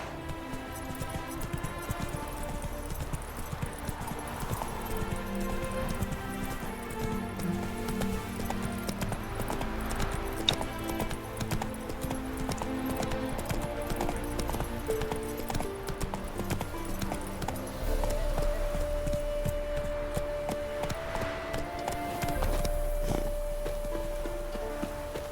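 Horse hooves clip-clopping in The Witcher 3: Wild Hunt, a steady walking rhythm of hoof beats on a hard surface, with soft music underneath and a brief tonal whinny-like sound near the end.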